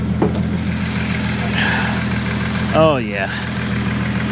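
A 2019 BMW 430xi Gran Coupe engine idles with a steady low hum throughout, while someone speaks briefly near the end.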